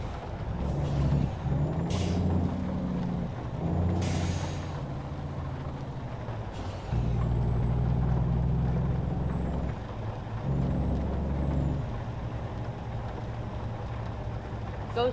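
Heavy truck in Euro Truck Simulator 2, a Harven W990, rumbling with a low engine drone while sharp air brake hisses burst out several times, alongside shifting engine tones.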